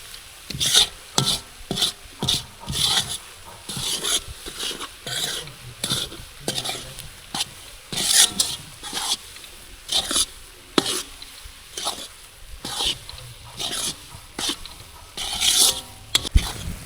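Fenugreek seeds roast dry in a pan while a spoon stirs and scrapes them in steady, repeated strokes, with a faint sizzle beneath the close, rhythmic rasping.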